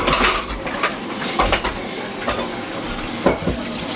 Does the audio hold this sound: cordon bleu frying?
yes